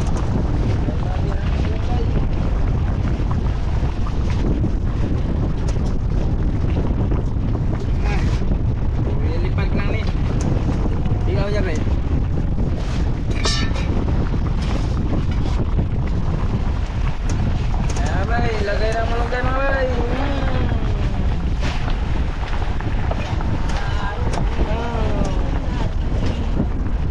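Strong wind at sea buffets a boat, roaring steadily and loudly across the microphone with constant gusting rumble, while voices shout intermittently underneath.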